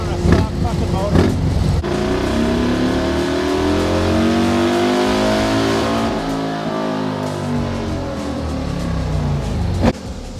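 A stock Harley-Davidson motorcycle engine roars loudly on a dyno, revving steadily up through a long sustained pull with rising harmonic pitch before cutting off near the end, a short burst of revving at the start.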